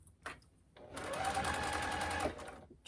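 A domestic sewing machine stitches Minky fabric in one steady burst of just over a second of fast, even whirring, close and clear, with short quiet pauses before and after.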